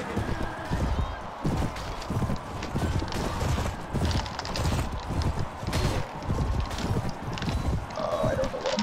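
Horse hooves clip-clop steadily in Mount & Blade Warband during a mounted battle with a lance, a loud continuous galloping rhythm mixed with clatter and other game noise.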